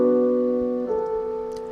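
Sample processed with plate reverb and pitch-shift digital artifacts, a sustained tonal chord that shifts to new pitches midway and decays gently, moderately quiet and alone.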